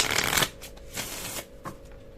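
Tarot cards are shuffled up close: a loud riffling burst, then several shorter crisp flicks and slides, with no talking.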